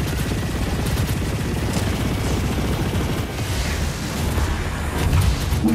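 Sustained gunfire and explosive booms from the sci-fi space combat video game Chorus, a dense, loud continuous barrage with rapid shots layered over rumbling blasts, no talking.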